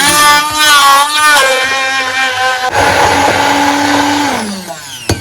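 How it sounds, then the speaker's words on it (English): A hand blender whirs loudly and continuously while blending soup ingredients, its motor pitch wavering and shifting, then winding down near the end. "But with the help of my hand blender,"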